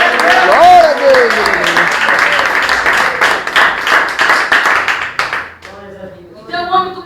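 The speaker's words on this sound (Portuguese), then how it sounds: "Palmas exaltadas." A church congregation claps loudly in a fast, energetic rhythm while a voice speaks over it. The clapping breaks off near the end, leaving a singing or preaching voice alone.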